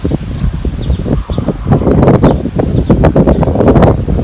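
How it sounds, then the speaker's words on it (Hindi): Strong storm winds in a Pakistani village roar and gust in bursts, buffeting the microphone, with rustling and faint chirps from birds in the background. "बनिंगाला में रात से ही तूफान आया हुआ है"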